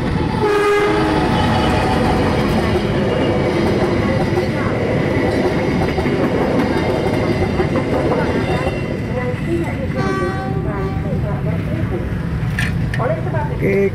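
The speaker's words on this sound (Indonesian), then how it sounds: "KLB ditarik lokomotif CC2018331 SMC lokomotif vintage dari Semarang." A passenger train hauled by a vintage CC201 diesel locomotive from Semarang rumbles past at close range, loud and continuous, with a horn blast and steady wheel and engine noise throughout.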